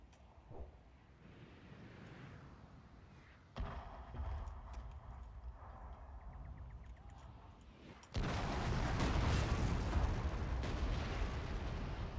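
Artillery batteries fire in the Fall of Samurai strategy game, a dense low rumble of blasts that steps up in loudness twice and ends in a heavy, sustained barrage with no voices.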